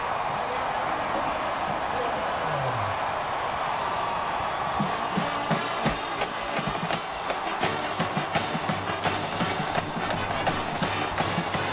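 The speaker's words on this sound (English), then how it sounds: "Arkansas faithful up and cheering here" Arkansas fans roar after a touchdown at the 2010 Liberty Bowl college football game against East Carolina: a broad, sustained stadium crowd cheer that swells and holds steady, with a voice talking over it.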